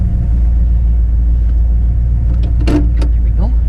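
Oldsmobile 442 with a 400 cubic inch V8 and three two-barrel carburetors idling, a loud steady low rumble filling the whole stretch, with brief clicks and shuffling sounds near the end.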